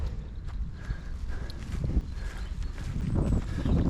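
Horse hooves clip-clop on a hard surface at a walking pace, among background rustling and outdoor noise.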